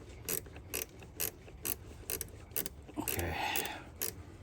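A ratchet clicks as it turns a socket under the hood of a 2024 Honda Ridgeline, short bursts of close clicking repeating about once every half second, with a brief spoken word partway through.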